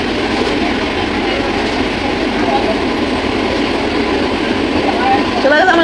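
A Ranaghat–Sealdah air-conditioned train runs at speed with a loud, steady rumbling roar, heard from onboard. Brief squeal-like tones rise near the end.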